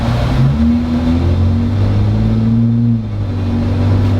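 A Jeep Wrangler in economy mode accelerating, its engine note climbing steadily and loud from up close with a smooth rising drone, no voices over it.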